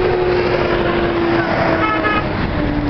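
Car horns honk in a busy street, a sustained tone over steady traffic rumble, with further honks layered in the background.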